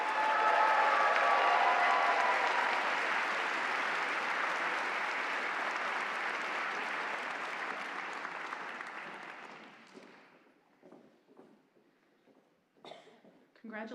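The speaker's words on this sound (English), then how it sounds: "And how about a round of applause for our graduates?" Audience applause at a medical school commencement ceremony, a loud, dense wash of clapping from a large crowd that fades out after about ten seconds, followed by a few scattered claps and a brief voice.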